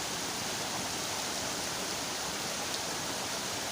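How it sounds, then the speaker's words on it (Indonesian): Curug Sawer waterfall pours many streams of water down a cliff, making a steady, even rushing hiss that holds without a break. "banyak banget aliran air di tebing ini"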